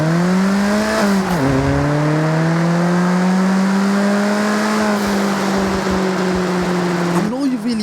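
A car with a 2.1-litre four-cylinder engine in the Forza Horizon 6 racing game, its loud, buzzy engine note holding a steady drone, briefly dipping as it shifts gears and rising again near the end.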